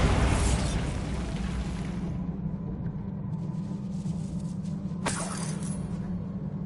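A Bombarda blasting spell goes off in Hogwarts Legacy, a loud broadband burst at the start that settles into a rumbling tail, followed by a sharp secondary crack a few seconds later.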